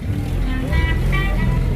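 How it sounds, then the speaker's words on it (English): A vintage 2200cc Austin car drives past at a vintage car rally in Kolkata, with a low, rumbling engine and road noise heard close under a public-address voice. "closely followed on the heels by a 2200cc Austin owned by Shubhadeep"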